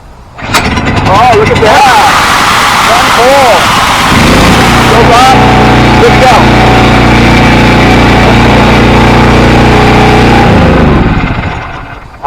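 A Harbor Freight Predator engine on a rototiller, choke set, pull-started once and catching quickly, then running at a steady, loud, close idle for about ten seconds while people talk over it.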